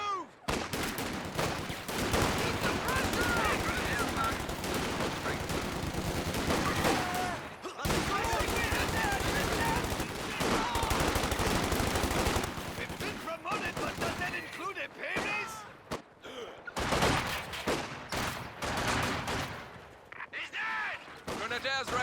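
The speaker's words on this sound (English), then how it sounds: "Incoming fire! Infantry firing on us." Infantry gunfire in Company of Heroes 2, a WWII real-time strategy game: dense, continuous bursts of rifle and machine-gun fire rattle almost nonstop, with game voice callouts heard over the shooting.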